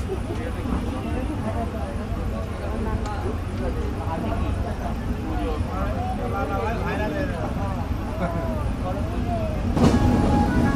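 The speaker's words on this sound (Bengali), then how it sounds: "যাই হোক, ট্রেন ছেড়ে দিল সাবদারপুর থেকে।" The Sagardari Express of Bangladesh Railway rolls on after pulling out of a station, giving a steady rhythmic clatter and rumble with a voice talking over it.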